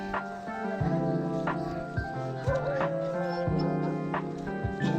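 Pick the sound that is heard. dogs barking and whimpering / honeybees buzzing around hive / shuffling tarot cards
dogs barking and whimpering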